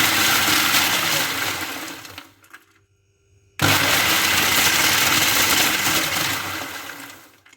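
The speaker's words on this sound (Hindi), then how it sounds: "आप चॉपर में गूंद को डाल देते हैं और गूंद को भी आपने थोड़ा मोटा मोटा पीसना है" An electric chopper coarsely grinds edible gum (gond) with a loud, harsh whirring. It runs for about two seconds, cuts out into near silence, then starts again abruptly and whirs on before winding down.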